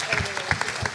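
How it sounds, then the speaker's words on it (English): An audience at a school careers immersion day claps in a brief burst of dense applause, with a voice faintly audible alongside. "Let's give them both a round of applause."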